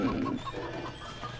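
Cartoonish chicken clucks and coos in the co-op moving game Moving Out, several short bursts close together over a steady game soundtrack.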